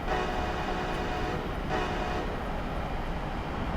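A passing train in Train Simulator 2016, on a snowy New Jersey route with an ALP-45 DP locomotive, rumbles steadily and loudly throughout, with a constant dense rolling roar that swells slightly midway.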